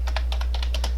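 Fast typing on a computer keyboard, about nine crisp key clicks in quick succession over a steady low hum, close and clear with no talking.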